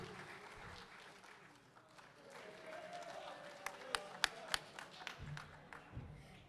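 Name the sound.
audience applause at an inauguration ceremony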